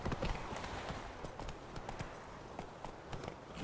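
Horse hooves galloping in The Witcher 3 video game: a steady rapid clip-clop of hoofbeats over ground, fairly faint and continuous, with no talk.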